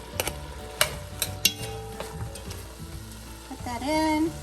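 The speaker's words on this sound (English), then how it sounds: "Put that in, and just let that saute." Vegetables sautéing in leftover meat fat in a pan, with a steady low sizzle, a few sharp clinks and taps early on, and a brief louder frying surge near the end.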